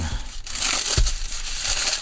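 Glass screen protector packaging for an iPhone 12 from an AliExpress parcel crinkles and crunches up close as it is opened, with sharp crackling bursts and a loud crumple near the middle.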